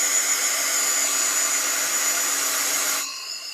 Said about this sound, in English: Okay, turning on the heat gun again. Sorry, it's going to be loud for a few seconds